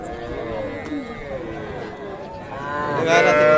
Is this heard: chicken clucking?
no